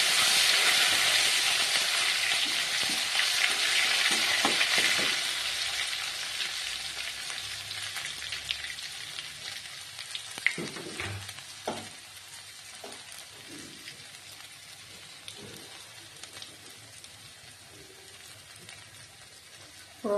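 Crushed ginger fries in hot oil for mustard greens, a loud hissing sizzle that slowly fades, with a few faint clicks and knocks toward the end.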